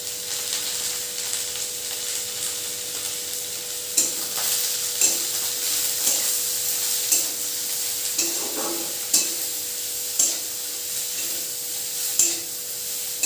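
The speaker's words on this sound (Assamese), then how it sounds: "এতিয়া সম্পূৰ্ণ ভজা নোহোৱালৈ এনেকৈ জলদি ভাজি থাকোঁ।" Fish seasoned with salt and turmeric fries in oil in a pan with a steady loud sizzle. A spoon scrapes through it in regular stirring strokes about every second, close up, with no talking.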